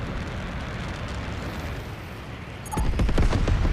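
A missile explosion in an online flying video game, a sudden low boom that breaks through a steady rumbling engine and wind bed near the end.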